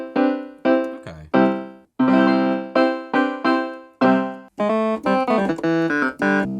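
Acoustic bass voice on a Donner MEK-200 electric keyboard, a series of plucked, decaying notes played one after another, then a quicker run of overlapping notes.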